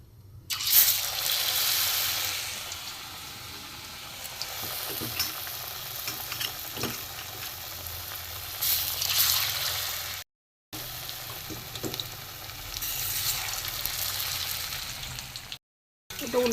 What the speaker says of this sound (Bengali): একইভাবে ওইভাবে আমি এগুলো ভেজে নেব।